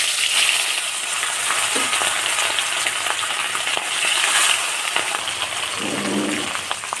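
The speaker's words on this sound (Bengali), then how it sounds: "আমার তেলটা একদম গরম হয়ে গেছে। এবার মাছগুলো ছেড়ে দেবো।" Hilsa fish sizzling in very hot oil in a wok, a steady, loud frying hiss that runs throughout with a few soft clinks and bubbling bursts, no voices.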